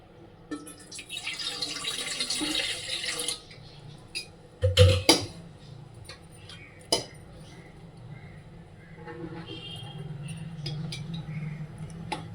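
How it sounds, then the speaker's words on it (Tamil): Water pours into a metal pot with a steady rushing splash, joined by a few sharp clinks and knocks of cookware. "பாத்திரம் வச்சுட்டு ஒரு டம்ளர் தண்ணி சேர்த்துக்கலாம்"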